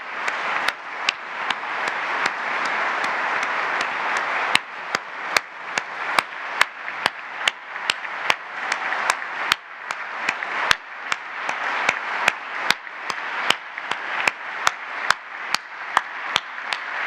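An audience at the 25th anniversary ceremony of Mexico's Tax Administration Service (SAT) at the National Palace applauds Raquel Buenrostro Sánchez. A dense burst of clapping settles into a long run of sharp, evenly spaced unison claps.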